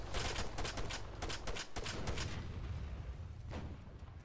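Arma 3 gunfire: a rapid, fairly quiet burst of repeated shots for about two seconds, then a lull and one more distant report.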